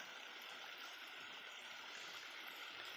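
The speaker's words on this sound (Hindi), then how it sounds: "जो इसका मेन था पानी का बहाव, ये इसके ऊपर से जाएगा" Stream water flows steadily over buried wood, a continuous, even rush of moving water with no breaks or other sounds.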